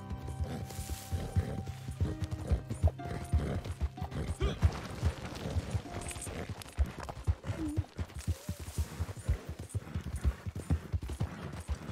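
A horse's hooves clip-clop steadily in the Red Dead Redemption 2 video game, with creaking tack and mechanical clicks beneath, moderately loud, and no clear neigh standing out.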